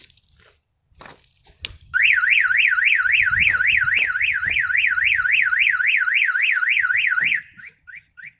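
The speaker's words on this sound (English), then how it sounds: "if someone wants to apply a sharp object to any of the windows, the alarm will trigger" A Starline alarm fitted to a Mercedes Vito van, set off by its glass-break sensor, blares a loud, fast warbling siren for about five seconds. A few knocks come before it, and short chirps follow as it stops.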